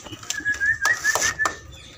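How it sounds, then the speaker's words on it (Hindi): Pigeons calling with a thin whistling tone and soft cooing bursts, close by, several short calls over a quiet background. "तो ये देखें दो कबूतर आ गए हैं,"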